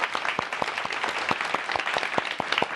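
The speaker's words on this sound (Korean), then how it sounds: "여러분 박수 부탁드리겠습니다." Lecture-show audience applauding, a short burst of quick, distinct hand claps from a modest crowd, fairly close and even, lasting under three seconds.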